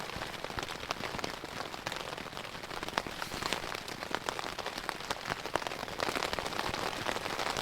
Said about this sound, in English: We got out of the rain.